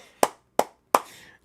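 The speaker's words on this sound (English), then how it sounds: "Clap it up." Three sharp hand claps, evenly spaced and fairly close, each with a quick decay; the last one trails into a faint room tail. No talking.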